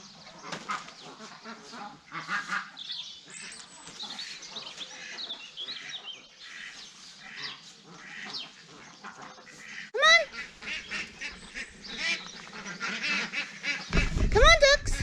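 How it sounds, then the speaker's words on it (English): Ducks quacking and honking outdoors, scattered calls over a busy background with a couple of louder, closer calls near the end. "Come on, ducks."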